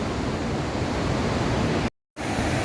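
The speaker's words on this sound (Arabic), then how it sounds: "شوفوا الشلال." Victoria Falls in Zambia/Zimbabwe roars as a steady, loud broadband rush of falling water close by, with a brief cut to silence near the end before the roar resumes.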